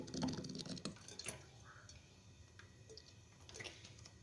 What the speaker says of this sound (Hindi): अब इसके अंदर डालेंगे ऑयल।